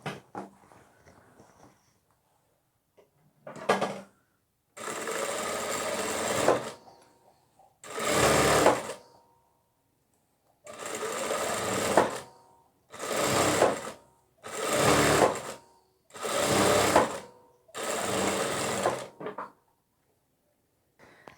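A sewing machine stitches a fabric cover for a nursing pillow in a series of close, loud bursts of rapid whirring, each lasting one to two seconds, separated by short pauses.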